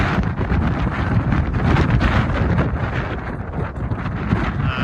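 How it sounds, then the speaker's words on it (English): Strong gusting wind on an exposed mountain path near sea cliffs batters the microphone with loud, continuous low-end roaring and buffeting. "This wind is great."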